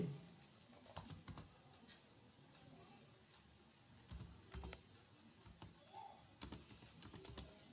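Typing on a computer keyboard while entering a username for a marketplace account: irregular bursts of quiet key clicks, close but faint, with short pauses between clusters and a louder flurry near the end.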